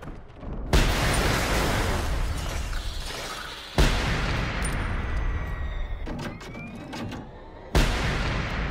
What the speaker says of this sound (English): let's really quickly get out our hand grenades here